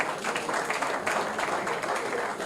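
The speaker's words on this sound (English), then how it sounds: "Please, a round of applause again." An audience at a youth summit applauds in a steady wash of clapping, with voices and crowd noise mixed in throughout.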